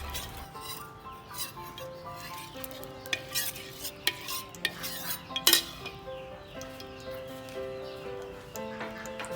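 A pan clatters onto the stove and oil goes in for a Thai cabbage-roll dish, with light metallic knocks, utensil clinks and a faint sizzle, fairly quiet and close.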